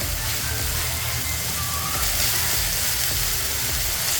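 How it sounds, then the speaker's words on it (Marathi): Garlic and asafoetida sauté in hot oil in a pan, producing a loud, dense, unbroken sizzle and crackle that stays steady from start to finish. "आता आपण हा छान परतून घेणार आहे"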